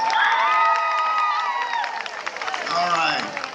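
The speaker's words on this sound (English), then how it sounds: "let's give them a big round of applause" A crowd cheers and applauds for a school drill team, with shouts and high voices ringing over scattered clapping that surges, dips, then swells again.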